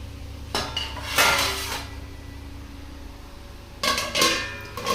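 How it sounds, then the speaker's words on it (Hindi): Metal pot lid set down over a pot of dal on a home kitchen stove, two clattering clinks about three seconds apart over a low steady background hum. "दाल को मैं अभी ढक देती हूँ।"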